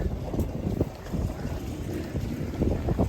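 A semi-submarine tour boat on the Red Sea at Hurghada, heard as a steady, rumbling wash of engine and water with heavy wind buffeting the microphone, continuous and close, with no talking.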